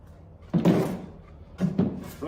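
A Kreg metal drawer slide is pulled out during a woodworking drawer install, giving a few close, rumbling sliding scrapes and clunks with quiet pauses between them.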